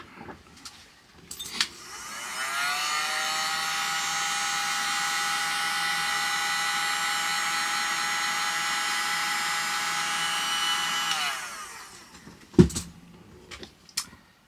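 A heat gun warms one end of a part before heat shrink goes on: a steady, loud whirring blower roar runs for about nine seconds, then cuts off, followed by a few sharp knocks and handling clicks.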